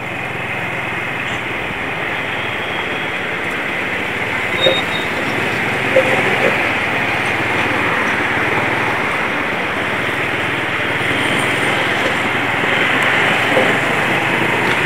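Underbone motorcycle engine held at a high, strained whine in second gear while riding, a continuous buzzing drone with slight swells in pitch and a few small knocks, loud and close throughout.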